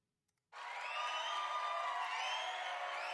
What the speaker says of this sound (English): Crowd applause maybe.